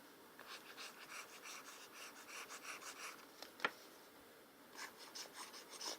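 Pencil strokes and erasing on paper during a figure sketch: soft, quick rhythmic scratching and rubbing repeats throughout, close and fairly quiet, with one sharper tap midway.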